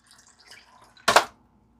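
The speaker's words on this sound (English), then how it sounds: "So we're just going to pour that into our bottle." Urea solution poured into a bottle gives a short, close splash and gurgle of liquid lasting about a quarter second, after a faint stretch of quiet trickling.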